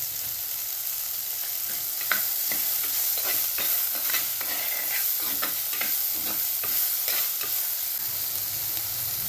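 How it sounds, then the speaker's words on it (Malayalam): Onions sauté in a pan for a drumstick theeyal curry, a constant sizzle broken by repeated scraping strokes of a spoon stirring them, near and fairly loud. "ഉള്ളി ഒന്ന് വഴണ്ട് വരുന്നത് വരെ ഇളക്കി കൊടുക്കുക."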